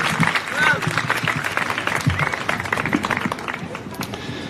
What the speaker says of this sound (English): Give them another round of applause, would you please?